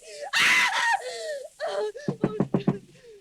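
Woman screaming in a suspense radio drama: a loud, close shriek followed by strained gasps and sobbing cries, then a run of sharp knocks.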